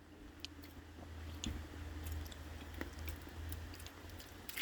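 A crunchy taco is chewed close by, with soft, sparse crunches and squishy bites over a quiet room hum. No talk.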